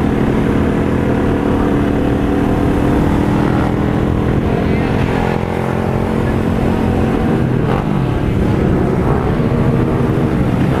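Motorcycle ridden through the streets of Londrina, a loud, continuous engine drone with wind rush, held steady throughout and close to the microphone, with no pauses.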